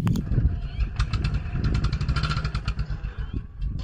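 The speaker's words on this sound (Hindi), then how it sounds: "मैंने सिर्फ एक्सीलेटर की मदद से बाइक को ऊपर लाने की कोशिश की है" A motorcycle engine revs hard and steadily while the rider tries to lift the front wheel into a wheelie using only the throttle; the engine note is close and loud, with a fluttering, pulsing rhythm throughout.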